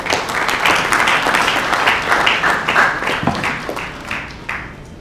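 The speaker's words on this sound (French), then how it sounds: "Est-ce qu'on peut applaudir encore aussi?" An audience at an entrepreneurship certificate ceremony in a Rotana Hotel hall in the DRC claps steadily, a dense, sustained round of applause that fades slightly toward the end with no talk over it.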